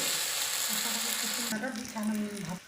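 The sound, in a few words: onion, ginger and cumin paste frying in oil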